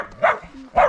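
A dog gives two short, sharp barks close by, spaced about half a second apart, with quiet gaps around them.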